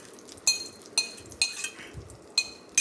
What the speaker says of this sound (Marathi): भातामध्ये फोडणी घालून घेतलेली आपण मस्त हलवून घेतो आहे